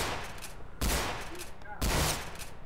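Gunfire in a video game: two loud, sharp shots about a second apart, each trailing off into a lingering tail over a steady background hiss.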